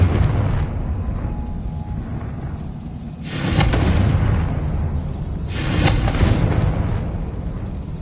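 Two heavy magical blasts from Bombarda and Confringo spells in Hogwarts Legacy burst a few seconds apart over a low ambient rumble, each a loud, broad whooshing explosion that swells and fades.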